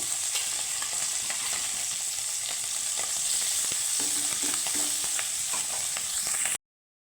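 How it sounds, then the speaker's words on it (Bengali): Tangra fish fry in plenty of hot oil, giving a continuous, dense sizzle and bubbling that runs steadily close by, then stops abruptly, with no talk. "এপিট এপিট করে আমি সুন্দর করে লাল করে ভেজে নেব দেখো কত ফুটছে মাছগুলো"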